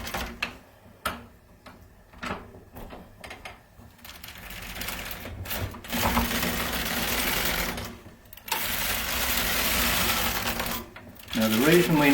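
A knitting machine works a rib on both needle beds, a clattering mechanical run of rapid ticks and rattling carriage passes, with someone talking intermittently over it.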